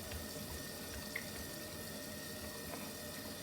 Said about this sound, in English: Did you turn on the hot water?